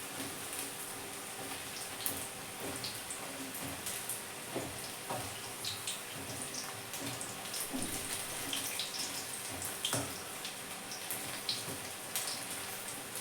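Baby corn deep frying in hot oil in a wide pan for Manchurian, giving a steady close crackling sizzle dotted with small sharp pops, with no talking.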